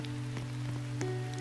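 Rain falls in a Roblox game as a soft, steady patter with a few brighter drop taps, faint and continuous throughout.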